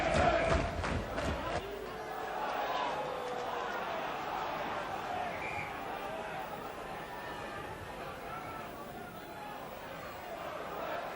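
A large football crowd roars and cheers at an Oxford United versus Manchester United League Cup quarter final, a loud surge at first that settles into a sustained, distant murmur of the stands.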